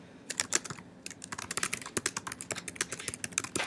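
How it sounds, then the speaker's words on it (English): Quick bursts of keystrokes on a computer keyboard, close and fairly quiet, irregular tapping with a brief pause near the start. "And then I'm going to come down here and just type some more words."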